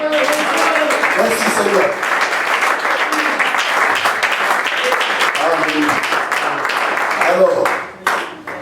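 A church congregation claps warmly at an adoption ceremony. The applause is dense and steady, and a preacher's voice carries over it before the clapping thins out near the end.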